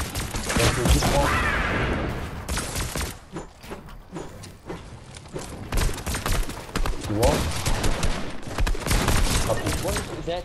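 Rapid bursts of gunfire from a Marvel shooter video game, dense and repeated across the span, mixed with other game effects while players talk over it.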